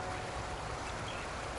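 Broad, steady rush of a river's main current, close and continuous with no breaks, a dense watery hiss filling the whole moment.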